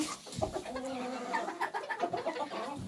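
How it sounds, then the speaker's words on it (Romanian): A rooster clucking close by, its throaty calls mixed with a person talking nearby. "Asta e un cocoș super frumos."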